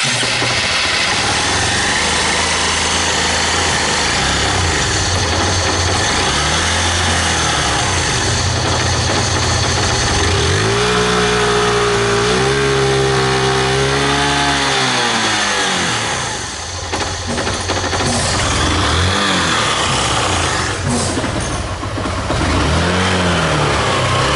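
Honda Titan 150 motorcycle engine from 2011 with low fuel pump pressure, running loud and close, revving unevenly with a rising and falling surge mid-way, then dropping off as it struggles to hold idle.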